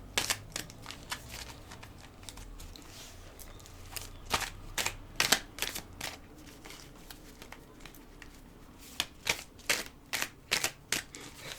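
Tarot cards being shuffled and drawn, giving crisp papery riffles and flicks in irregular bursts, close and fairly quiet, with no talking.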